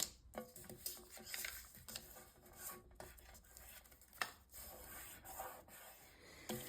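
A Pritt glue stick is rubbed onto paper for journal crafting, giving soft, continuous scratchy strokes with brief pauses, close and fairly quiet, with no talking.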